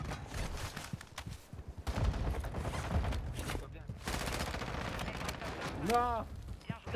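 Video-game gunfire during a ranked match, dense bursts of shots crackling through most of the stretch at moderate level, mixed with game noise and a player talking.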